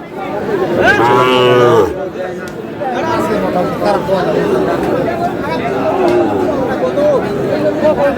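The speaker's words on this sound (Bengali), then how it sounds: "পাকড়া পাকড়া ষাঁড়" A Sahiwal bull calf lows with one loud drawn-out moo at a busy cattle market, followed by steady crowd chatter and bargaining voices close by.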